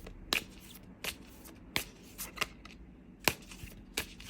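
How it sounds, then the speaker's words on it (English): Tarot cards are shuffled by hand in a quiet room with a series of crisp, close riffling snaps at an uneven pace, some louder than others. "Let me shuffle one more time."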